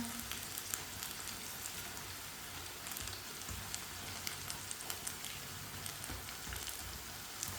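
Aloo pakoras frying in hot oil on a stove give a steady, soft crackling sizzle with scattered pops throughout, no voices over it.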